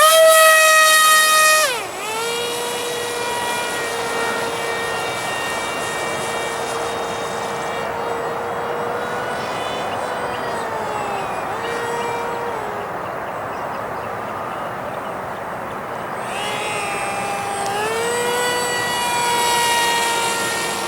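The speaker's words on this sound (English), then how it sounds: "First flight, first maiden flight, guys" An airplane engine on its maiden flight whines loudly and steadily near by, its tone dipping and swelling as the throttle changes, with no voices.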